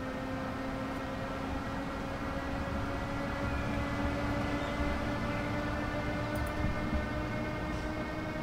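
A Flixtrain passenger train in the railway simulator Train Sim World 5 runs steadily along the Frankfurt–Fulda line, a continuous rolling rumble with sustained humming tones and faint clicks, no voices.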